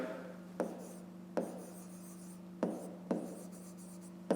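A pen writes out a maths solution on paper, with a few sharp scratchy strokes and taps spaced irregularly over a low steady hum, close and quiet, with no talking.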